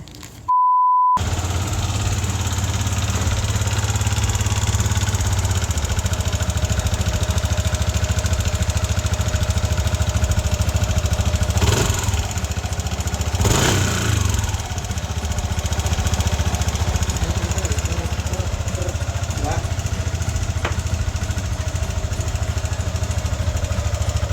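Yamaha NMAX scooter engine running steadily at close range with a constant low drone and an underlying rattling, marble-like noise, plus a couple of brief sharper knocks midway.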